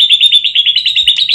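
A white-rumped shama (murai batu) sings close and loud, a quick run of bright, repeated chirping notes in steady rhythm against a quiet background.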